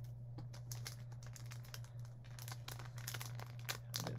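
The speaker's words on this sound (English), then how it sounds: "I'm going to peel off the strip." Adhesive strip peeling off a plastic bag, heard as a close, quiet run of crinkly plastic rustles and small tearing crackles over a steady low hum, with no talking.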